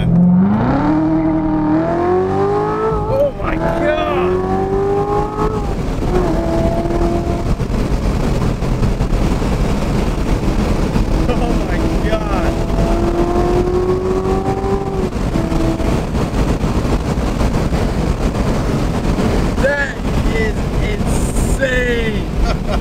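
A lifted RAM 1500 pickup truck runs at about 25 miles an hour, a steady loud rumble of engine and road noise with wind buffeting, and people talk over it throughout.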